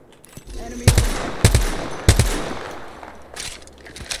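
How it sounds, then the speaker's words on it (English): Enemy gunfire in a shooter video game crackles in three sharp, loud bursts of rapid shots about half a second apart, followed by fainter scattered shots near the end. "I am taking fire, friends."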